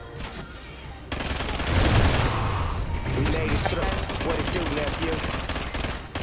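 In a video game firefight, heavy gunfire starts abruptly after a quiet second and keeps going as a steady, loud barrage of overlapping shots until the end.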